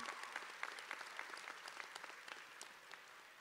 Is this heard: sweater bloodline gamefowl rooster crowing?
no